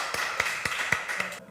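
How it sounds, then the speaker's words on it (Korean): Scattered clapping from a church congregation welcoming new members at a Sunday service, a handful of sharp, uneven claps sounding close by in a reverberant hall. "우리 환영의 박수 하나님께 올려드리겠습니다"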